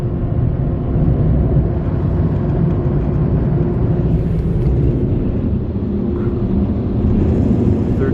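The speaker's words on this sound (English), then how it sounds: "There's only 2 blowers on this thing, not 3." Steady, loud roar of the two dryer blowers on a Belanger Kondor KL2 car wash in Ft. Lupton, Colorado, a continuous low rumbling rush of air heard close up from inside the vehicle, with no talking.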